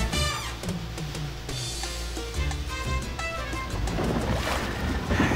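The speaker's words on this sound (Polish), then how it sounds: "Jak widzicie, wypływamy na przejażdżkę łódkową." A small boat sets out on a sea ride off Mexico's Riviera Maya coast. A low motor hum runs under steady wind and water rush, with splashing building toward the end.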